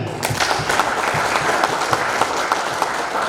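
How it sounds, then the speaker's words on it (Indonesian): A crowd at an association's leadership inauguration in Jember claps together in a steady, dense burst of applause that carries evenly through the whole stretch. "Kita tepuk tangan."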